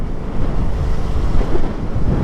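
Strong wind roars and buffets the microphone on a Suzuki Smash 115R motorcycle ride, a steady, loud low rumble throughout, with no voices.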